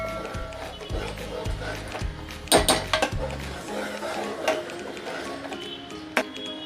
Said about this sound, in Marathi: त्यात आता मी ही डाळ टाकणार आहे आणि त्याला आपण व्यवस्थित मिक्स करून घेऊया।